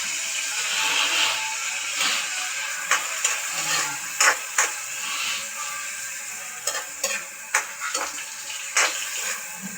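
Vegetables being stir-fried in a pan with a splash of soy sauce, a steady close sizzle broken by scattered sharp scrapes and clacks of a utensil stirring against the pan.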